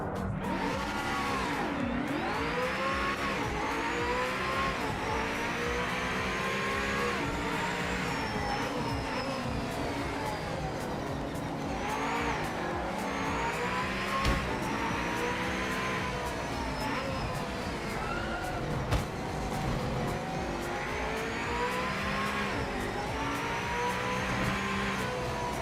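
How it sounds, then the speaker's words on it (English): A Mercedes CLK race car engine revs in the racing game Project Motor Racing, a loud, sustained wail rising and falling through repeated gear changes with no talk. "This car sounds amazing in this game."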